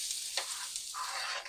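Peppers and onions fry in hot toasted sesame oil with a steady, bright sizzle that runs the whole time, plus a few louder crackles and pops near the start.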